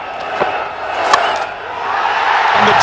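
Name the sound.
crowd cheering at an indoor cricket match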